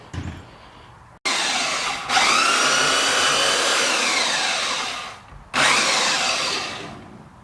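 A loud power sander whirs steadily against a scrap-wood bench, stopping briefly and starting again, its pitch shifting slightly as pressure changes.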